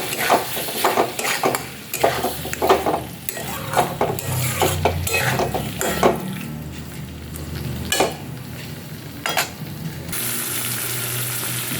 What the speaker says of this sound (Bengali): এবার আমি এর মধ্যে সেদ্ধ করে রাখা আলুগুলো দিয়ে ভালোভাবে আরও একটুখানি কষাবো